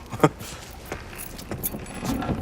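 Keys jangle in the Mafia III video game, giving short metallic rattles and clinks at close range over a low ambient background.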